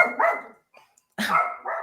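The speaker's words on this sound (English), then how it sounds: "my dog is barking" Dog barking indoors, two close, loud barks with a short pause between them, the second followed by a shorter bark, with no voices.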